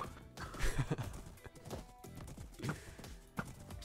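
Minecraft horse whinnies and clip-clopping hooves in a beach island world, several short bursts and taps at moderate level over a busy game background.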